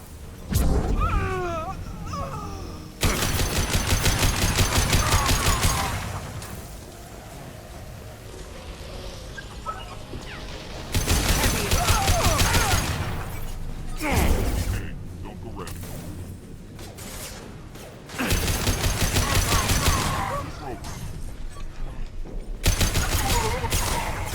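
A Mass Effect 2 firefight with repeated loud bursts of gunfire and explosive blasts in several long stretches, separated by quieter pauses, with voices calling out between the volleys.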